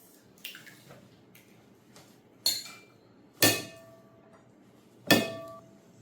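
Two large eggs cracked against a bowl into milk and water for sourdough butter bread: three sharp, close clinks spaced a second or two apart, each with a brief ringing tail, against a quiet room.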